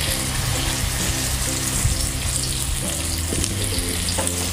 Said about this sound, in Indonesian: Sekarang kita tumis bumbunya.